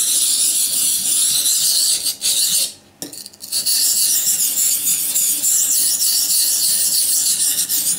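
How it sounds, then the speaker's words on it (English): A knife edge is worked on a sharpening stone in a round motion, producing a continuous close, loud rasping hiss that stops briefly near the middle before the strokes resume. "for convex edge, this stone sharpening is not strict, kind of loose, very loose."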